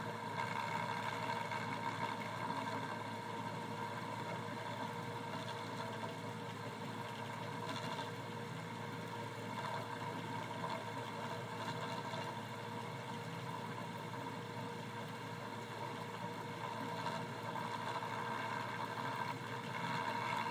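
A homemade pulse motor with an external trigger coil runs steadily at around 900 RPM, giving off a continuous, even mechanical hum with a fixed tone throughout, fairly quiet and with no voices.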